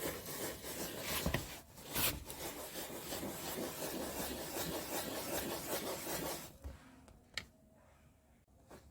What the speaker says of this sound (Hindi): इस ब्रश को इसके अंदर डुबाने के बाद यहाँ पे सीटों पे रब करना है इस तरीके से